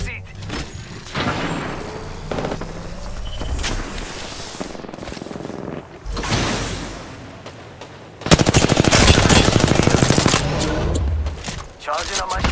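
Gunfire in the video game Apex Legends erupts loud and close, with scattered shots giving way to a long rapid automatic burst, mixed with game voices and movement noise.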